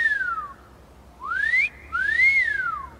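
A horse whistle sounds in the video game Skyrim as three clear, fairly loud whistled notes: a falling tone, then a rising one, then a rising-and-falling call, with short quiet gaps between them and no talk.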